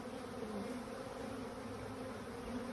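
Honeybees hum inside a packaged hive with a new hive body added, a steady, close, even buzz that carries on with no break and no voices.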